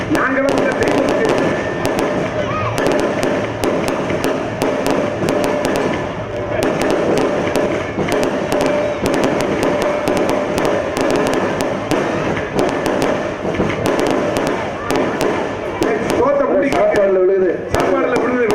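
Firecrackers explode in dense, continuous crackling bursts, loud and close, with festive crowd noise and music underneath throughout.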